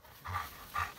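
A nervous dog pants close by in two quick, breathy bursts, quiet and alone with no voices.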